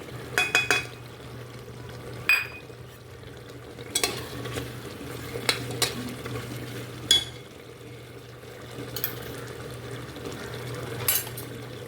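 A spoon stirs garam masala and Kashmiri red chili in a pan, making scattered scraping clinks against the metal at an irregular pace over a low, steady hum, with no voices.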